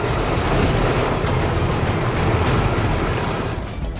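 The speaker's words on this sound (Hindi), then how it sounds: "बिहार में गंगा नदी का दिख रहा है रौद्र रूप।" The flooded Ganges river rushes through Patna district in Bihar with a loud, constant broadband roar of churning water, close and unbroken throughout, with no voices.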